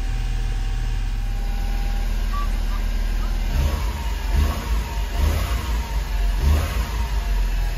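A right-hand-drive Honda Acty mini truck idles after carburetor maintenance and solenoid replacement, running steadily up close, then revving in several uneven bursts.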